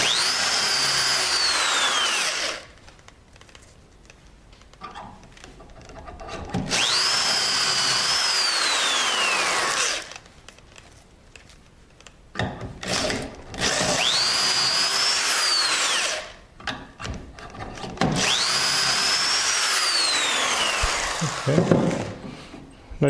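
A power drill bores dowel holes through a Dowelmax jig while a workbench with a mitered skirt is built, four loud whining bursts of several seconds each, separated by quiet pauses and faint handling knocks.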